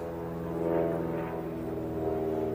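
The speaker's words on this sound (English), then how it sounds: "sorry about the plane." A low, steady drone of a plane passing overhead, swelling slightly and then holding, fairly faint and continuous.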